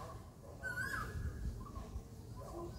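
A single faint, distant Asian koel call rises as a whistled note, heard once against a quiet, hushed outdoor background on the trek to Kedarnath.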